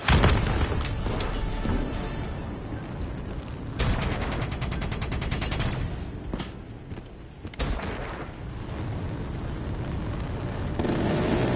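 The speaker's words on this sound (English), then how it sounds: "Grab cover! Incoming missiles!" Incoming missiles explode in the Call of Duty Black Ops 3 game: a dense, loud barrage of booms and blasts over rumbling, with brief bursts of gunfire and no let-up.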